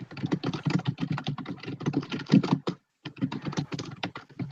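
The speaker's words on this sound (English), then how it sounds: "Angry typing intensifies." Fast, forceful typing on a computer keyboard clatters in dense, uneven bursts of key strikes, close and loud, with one brief pause before the hammering resumes; no voices.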